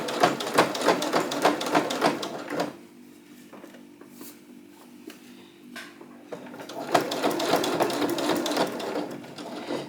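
Domestic sewing machine stitching through thick, bulky corner seams of fabric, with close mechanical whirring in bursts, a quieter pause in the middle where the hand wheel is turned slowly, then steady running again.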